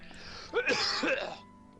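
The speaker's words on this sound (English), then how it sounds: "Thank you for coughing all over me, sir." A close, raspy throat-clearing cough in two harsh bursts, heard alone over faint background hum in a visual novel game.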